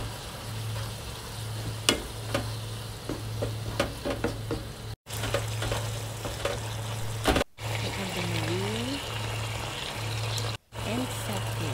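Soy sauce and tobanjiang sizzling in a pan for tantanmen, a steady close frying hiss with stirring scrapes and clicks, broken by a few short cuts.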